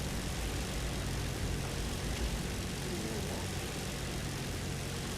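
A Ju 87 G-2 dive bomber in War Thunder drones on a steady, dense engine and propeller roar with flaps down for landing, constant and unchanging throughout with no audible talk.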